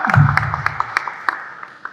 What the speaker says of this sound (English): If you have hands,